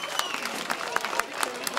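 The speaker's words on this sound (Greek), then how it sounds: "Το θερμό σας χειροκρότημα" Audience applause at a village event in Potamoi, Drama, Greece, a steady patter of many clapping hands with some crowd noise, moderately distant and continuous for a short stretch.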